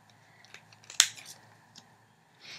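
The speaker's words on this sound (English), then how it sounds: "I'm going to go ahead and cut these in half" Scissors cut a sheet of nail application tips in half with one sharp, close snip, set among faint handling clicks in a quiet room.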